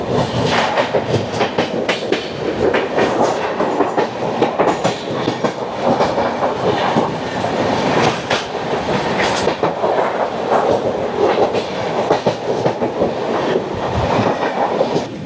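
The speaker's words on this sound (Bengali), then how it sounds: "ট্রেন নাম্বার 12382 নতুন দিল্লি থেকে হাওড়া ডাউন পূর্বা এক্সপ্রেসের সাথে" The Poorva Express, train 12382 running from New Delhi to Howrah, rushes past at close range, a loud continuous roar of wheels with rapid clickety-clack and rattling carriages throughout.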